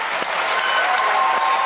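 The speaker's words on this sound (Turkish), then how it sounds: "Alkışlar istiyorum" Studio audience applause on a Turkish record-breakers TV show, a loud, dense, continuous burst of clapping from many people, with a faint steady tone in the background.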